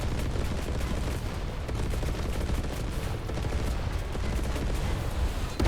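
Rapid bursts of 20 millimeter cannon fire from an armored vehicle in War Thunder, dense and continuous, loud and unbroken throughout.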